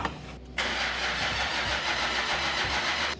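A Nissan Patrol engine cranks on the starter with the fuel pump unplugged, so it turns over without firing: a steady, close churning drone that kicks in abruptly and runs on evenly to the end.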